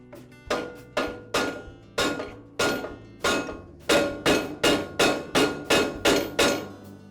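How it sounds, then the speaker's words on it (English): A rubber mallet taps the arbor shaft of an MK Diamond tile saw into its bearing, giving sharp solid knocks, sparse at first and then a quicker run of about a dozen evenly spaced blows, close and clear with no talk. "I'll use my rubber mallet to tap the arbor into that second bearing."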